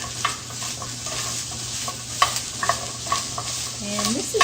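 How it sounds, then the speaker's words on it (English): Onions fry in a pan until soft, a constant close sizzle broken by stirring clicks and utensil taps against the pan, with a low steady hum underneath and no speech. "we're going to cook these until the onions are soft and kind of translucent."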